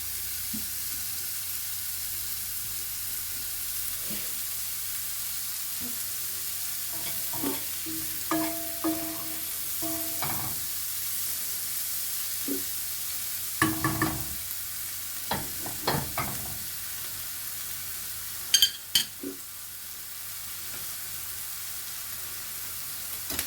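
Buckwheat patties sizzle steadily in a hot pan, with occasional scraping and clinking as they are stirred; no one speaks.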